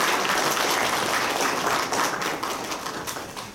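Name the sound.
audience applause at a symposium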